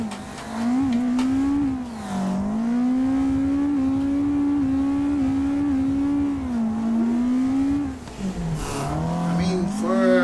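Toyota AE86 with a 268-horsepower engine revving hard in the Assetto Corsa racing game at Brooklyn Park, a loud, continuous engine note rising and falling with gear changes and brief tire squeal.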